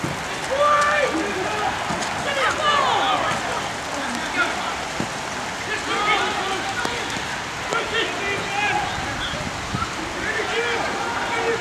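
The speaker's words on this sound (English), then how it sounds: "What a downpour this." A torrential downpour at a football match gives a dense, continuous hiss of rain hammering down, while voices talk over it throughout.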